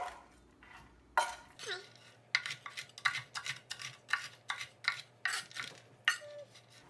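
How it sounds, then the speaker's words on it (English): Knife roughly chopping pepitas on a cutting board, a quick run of sharp, close taps in an uneven rhythm, loud and clear with no talk over it. "lightly chop up my pepitas here"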